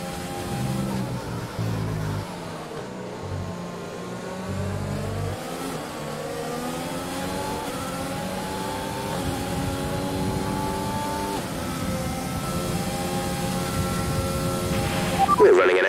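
Formula 1 cars in an F1 video game at the Styrian Grand Prix in Austria accelerate back to racing speed, a high engine whine rising steadily through the gears over about sixteen seconds, growing louder toward the end.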